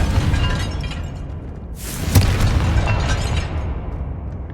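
Confringo fire-blast spell going off in the video game Hogwarts Legacy, a single loud booming burst with a bright crackling flare near the middle, over a steady rumbling game soundscape with no talk.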